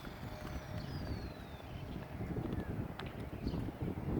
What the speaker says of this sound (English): it's pretty windy all of a sudden. Like it just kicked up really strong.